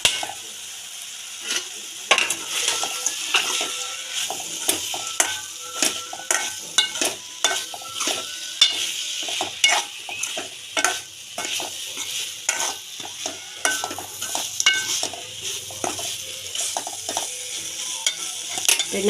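Repeated scraping stirs fried bread through sizzling masala in a pan, a steady busy rhythm of spoon strokes over frying, with no voices.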